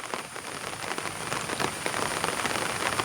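Rain falls in a steady, even patter, close and moderately loud, building slightly and holding without a break.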